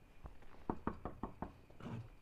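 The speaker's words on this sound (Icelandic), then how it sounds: "Við ætlum að banka upp á." Knuckles rap a house door in a quick run of about seven sharp knocks, close and clear over faint outdoor ambience, with no voices.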